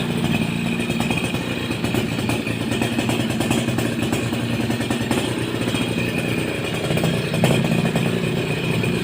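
A Suzuki RC100 motorcycle idles smoothly up close, a steady rhythmic two-stroke putter that holds an even pace for the whole stretch with no voices.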